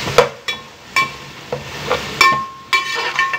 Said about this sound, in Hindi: 1 प्याज, इसको हम इसके साथ ही भून लेंगे।